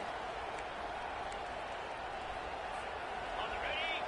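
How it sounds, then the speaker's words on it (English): Stadium crowd noise in a college football video game, a dense continuous roar in the red zone that holds steady throughout with no clear peaks. "Now the crowd responding in the red zone, trying to help this defense"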